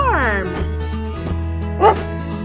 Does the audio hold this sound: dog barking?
yes